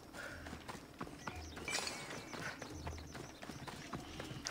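Horse hooves clip-clop in a steady, quick rhythm at low volume, with faint ambient game sounds around them, in Assassin's Creed Odyssey.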